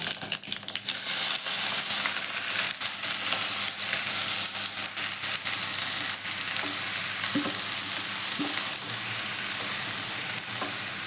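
Cut taro stems sizzle loudly and steadily in a hot pan for a Kerala thoran, with a dense, close frying hiss. Faint stirring clinks sound throughout, and no one speaks.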